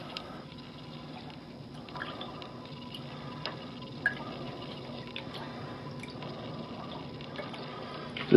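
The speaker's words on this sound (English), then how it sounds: "carefully measure a couple of drops in each one" Concentrated phytoplankton drips into small containers of aquarium water, producing faint, sparse little plinks and splats spread irregularly over a quiet, hissy background.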